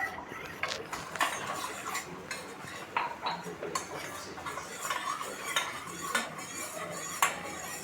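A spoon stirring cornflour into a cup of cold water, with rapid clinking against the cup in an irregular rhythm, close and fairly quiet with no talking.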